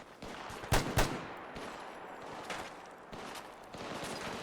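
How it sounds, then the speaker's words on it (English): Gunfire in Fallout 4 with the Tarkov mod: a few scattered sharp shots, two louder close bursts early, then fainter sporadic reports over ambient noise. "Okay, we're under fire."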